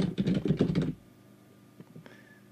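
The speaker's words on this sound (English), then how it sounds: "We'll type in our email address." Close, quick keystrokes on a computer keyboard as an email address is typed, a rapid burst for about a second, then a few scattered soft clicks.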